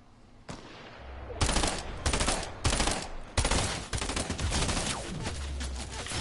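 Burst SMG fire in a video game comes as a series of loud, sharp volleys in quick succession, several distinct bursts in close range with rattling shots between them.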